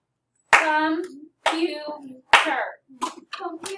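Hands clap sharply in a classroom phonics lesson, several distinct claps spaced through the clip, each landing on a spoken word part, with a voice talking along.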